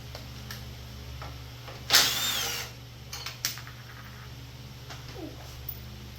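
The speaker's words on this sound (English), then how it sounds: "I'm gonna have to take off this bolt here for the muffler anyway" A power tool on a Scotts riding mower bursts into a short, loud whir as it loosens the muffler bolt, followed by a few small clicks and a faint low hum in an otherwise quiet space.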